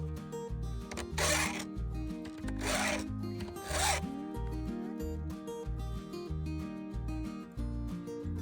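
A hand file on a Stihl 2-in-1 chainsaw sharpener rasps across chainsaw chain teeth in steady back-and-forth strokes, close and moderately loud, with three stronger scraping passes near the start over a rhythmic low thumping.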